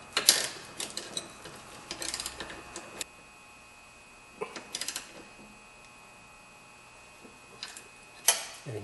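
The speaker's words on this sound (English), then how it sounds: "You put your ratchet onto it and just tighten it up." A ratchet tightens a sway bar link nut in several short bursts of quick metallic clicking, separated by pauses, fairly quiet and close.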